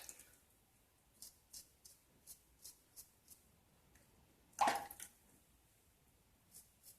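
Water worked into a shaving soap lather in a bowl, a faint series of rhythmic wet clicks and squishes at a steady pace, broken once by a louder wet splash.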